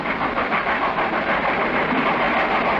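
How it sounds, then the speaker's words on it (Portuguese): An old steam train runs along the railway, giving a dense, continuous rumble and hiss with a faint rhythmic clatter of the wheels, steady and fairly close throughout. "O velho trem de ferro fez furor no século passado."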